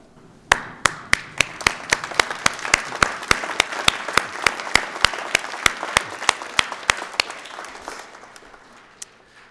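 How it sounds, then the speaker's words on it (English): University of Guelph graduates stand and applaud at their graduation ceremony, loud, close, sharply separated claps falling in a steady, even rhythm for about eight seconds before trailing off. "So graduates, I invite you all to stand up, turn around, salute, and applaud."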